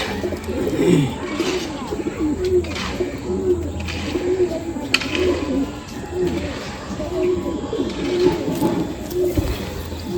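A male black Madrasi pigeon coos in a steady, repeating rhythm close by, the low throaty calls rolling on without pause against faint background noise.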